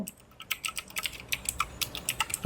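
Rapid keystrokes on a computer keyboard while script code is typed, a steady run of light, close clicks and taps with no talking.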